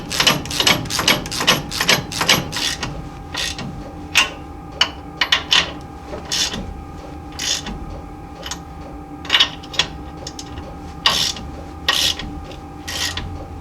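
A hand ratchet tightens U-bolts during a 3-inch lift install on a 1978 Jeep J10, with bursts of rapid rasping clicks followed by scattered single clicks and pauses, loud and close.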